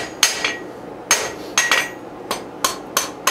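Hammer blows on hot steel at an anvil, flattening the end of a lid lifter for a Dutch oven, about nine sharp metallic strikes in an irregular rhythm, close and ringing, with no speech.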